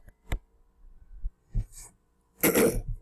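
A few separate coughs and sniffs from a person with a cold, close to the mic, spaced out with quiet gaps, ending in a louder, harsher cough.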